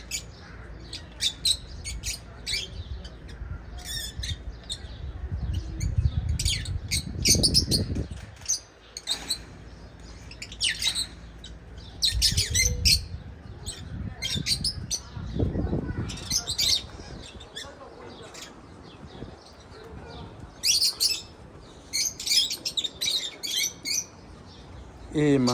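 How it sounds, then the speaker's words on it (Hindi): Parrots at a zoo keep up a busy run of repeated squawks and chirps, some near and some farther off, mixed with low rumbling bursts of background noise. "कितनी खूबसूरत है तोते"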